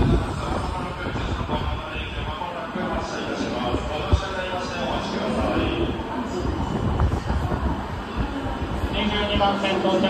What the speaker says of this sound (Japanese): 22番線列車が動きます。